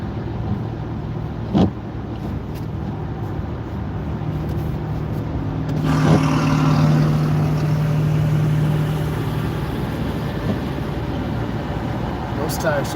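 A car with nearly bald tires takes a curve very slowly, its engine giving a low steady hum inside the cabin with a brief tonal rise partway. A voice talks over most of it.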